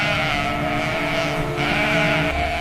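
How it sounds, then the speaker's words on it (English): Sheep bleat in a wavering, drawn-out cry that carries across a steady background of farm ambience, fairly close and alone with no talk. "It begins with a simple animal, a sheep."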